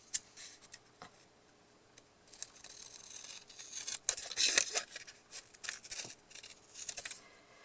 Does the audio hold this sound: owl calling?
no